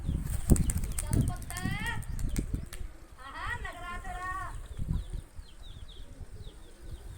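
A racing pigeon of the green-winged kanda type bursts into flight from a rooftop loft, a quick clatter of wingbeats over outdoor bustle, with birds chirping nearby and people talking over it.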